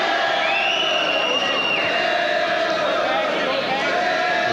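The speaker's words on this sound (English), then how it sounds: "The crowd still in good heart, in good voice, urging Loughran forward" A boxing crowd at the Eamonn Loughran vs Lorenzo Smith fight roars and cheers steadily, with whistles cutting through, under a commentator's voice.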